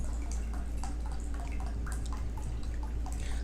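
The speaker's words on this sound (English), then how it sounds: "Let me add some water to this." Water poured into a drink at a table during a shrimp meal, heard as a run of small drips and splashes over a steady low hum.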